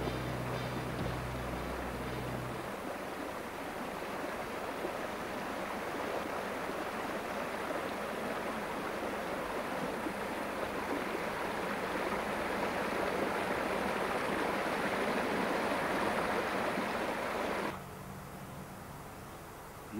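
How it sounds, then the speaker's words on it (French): A rushing mountain torrent roars in a dense, continuous wash of water, loud and close for most of the stretch before dropping abruptly quieter near the end. "On entend le bruit du torrent."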